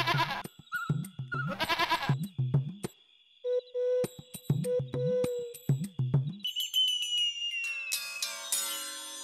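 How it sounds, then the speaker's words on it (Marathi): Goats bleat in a series of wavering, nasal calls that come in short bursts and pauses, fairly close and loud, with some tonal background sounds between the calls. "तिकडे शेळ्या दिसायल्यात काय?"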